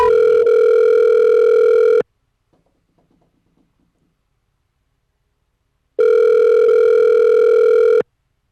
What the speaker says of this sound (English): Let me call one of the dignitaries down there to see if we can get them on the phone